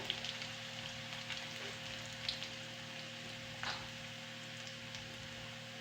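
Garlic and chopped vegetables sauté in a pan with a steady, soft, even sizzle throughout, quiet and close, with a couple of faint clinks along the way and no talking.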